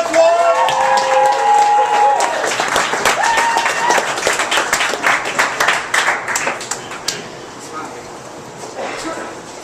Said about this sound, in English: I want everybody to please give a big round of applause for Antoine Wilson.